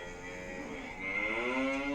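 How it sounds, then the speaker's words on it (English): A cow moos once in a short stock sound effect, a drawn-out, nasal lowing that swells louder in its second half, clean with no other sound. "Animals have animal sounds like cows mooing."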